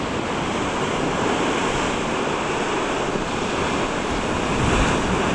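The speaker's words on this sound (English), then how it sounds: "The sound of the waves" Ocean waves wash continuously onto the shore of the Welsh coast in a dense, steady roar, with some wind buffeting the microphone and no voices.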